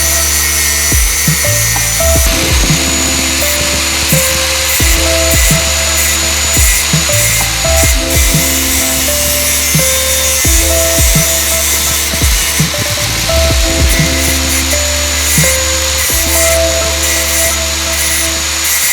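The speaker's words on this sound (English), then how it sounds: "these are StopTech sport pads. Fantastic pads for daily driving and a little bit of spirited driving, but we're gonna have to grind this down" A grinder cuts down StopTech sport brake pads from a Civic, a steady harsh grinding whine with repeated surges and dips as the tool bites in and lifts off, loud and close throughout.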